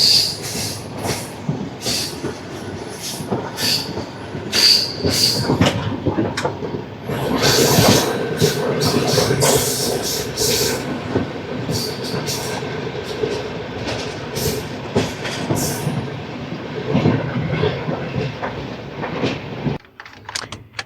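The 12731 Tirupati–Secunderabad Padmavati Superfast Express running at speed, heard from inside a second AC coach: a loud continuous rumble with rhythmic wheel clatter and bursts of squeal, steady throughout.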